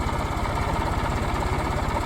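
A large tiller tractor engine idles close by, a loud, steady rhythmic chug with rapid, even low pulses and a constant rattling vibration, with no voices over it.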